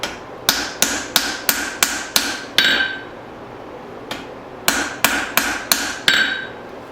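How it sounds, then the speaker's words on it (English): Hammer blows on a spring steel hatchet over a swage, in two bursts of rapid, evenly spaced ringing strikes with a short pause between, close and loud with no talking. "I'm just doing light forging because I don't want to get the eye all messed up again."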